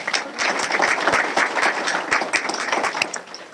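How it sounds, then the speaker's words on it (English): Steady applause from a crowd, dense clapping that holds evenly throughout without pause. "So let's give a round of applause for Lynn Allen."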